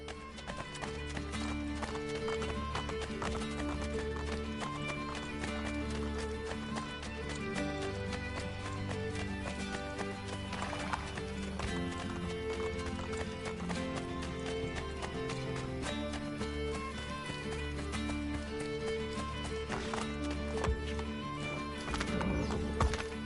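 Horse hooves clip-clopping in the video game Assassin's Creed Brotherhood, a steady rhythmic galloping patter running continuously alongside game music and occasional whinnies, fairly close and prominent.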